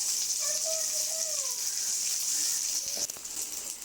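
Small onions sautéing in a pan for chutney give a steady, close frying hiss that runs throughout, with a faint voice briefly in the background.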